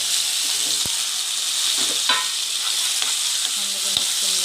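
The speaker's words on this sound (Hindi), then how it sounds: "अब मैं इसमें साथ ही कलेजी ऐड कर रही हूँ" Chicken liver sizzles steadily in a hot pan while being stirred, with occasional scraping and clinks of the utensil against the pan, close and continuous.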